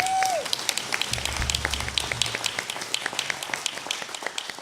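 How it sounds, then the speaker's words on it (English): Applause from a church service audience, a brief tone then a burst of steady, fairly close clapping from many hands that carries on evenly to the end. "So give yourself a round of applause."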